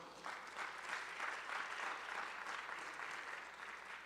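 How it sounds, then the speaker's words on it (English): Audience at a Black economy summit in Niagara Falls claps for the panelists, a sustained, even round of applause, fairly faint and distant, with no talk over it. "Give them a round of applause."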